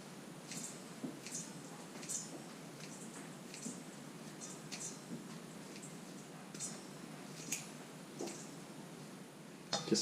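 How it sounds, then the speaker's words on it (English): Soaked bean thread noodles being squeezed by hand to press out the water, giving soft, close squishing and dripping sounds in irregular bursts while cooking bitter melon stuffed with ground pork. "squeeze all the water out from the bean thread"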